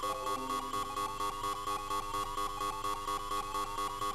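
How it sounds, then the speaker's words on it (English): Emergency buzzer in the Phoenix Wright: Ace Attorney – Trials and Tribulations video game, a steady electronic tone pulsing in rapid regular beats, loud and unbroken throughout with no voices. "It's an emergency buzzer."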